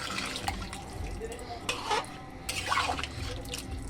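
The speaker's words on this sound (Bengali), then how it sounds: "এবার জল দিয়ে দেবো চিকেনটা যাতে ভালোভাবে সিদ্ধ হয়ে যায়" Water poured into a pot of chicken for a Bengali chicken stew, a continuous wet splashing and trickling with a few sharp clinks of the pot, close and moderately loud.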